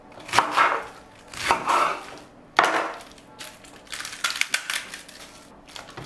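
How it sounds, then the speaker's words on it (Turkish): A knife chops vegetables for mixed pickle on a board, with several sharp, close thuds and crunchy cuts in irregular bursts, then lighter, quicker chops toward the end. "Fazla küçültmeden şöyle doğruyorum."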